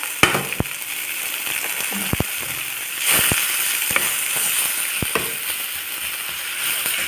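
Mixed greens including spinach, mint and other leafy greens sauté in a hot pan for paneer rice, with a steady close sizzle broken by sharp clicks and scrapes of stirring.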